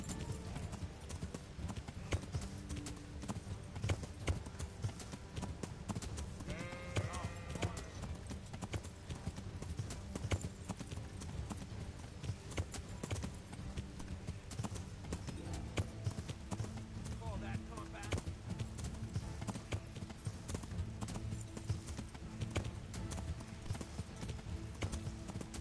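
Horse hooves clip-clop in the Kingdom Come Deliverance video game, a faint, steady trotting rhythm running throughout beneath game noise.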